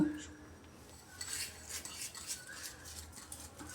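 Semolina being stirred in a hot kadai for a carrot sandesh, a quiet, steady gritty rasping and scraping of a spoon across the pan with soft irregular strokes.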